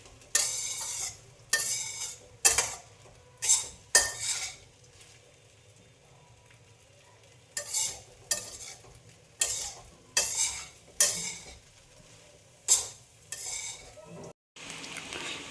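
A spoon scrapes and stirs sabudana khichdi with crushed peanuts in a sizzling pan, coming in repeated bursts of rhythmic scraping with short pauses between them, close up with no talking.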